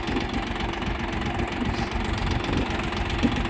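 A freshly repaired Kentavr 244SX tractor being broken in on a muddy road runs steadily with a low, knocking rumble throughout, close and continuous, with no voices.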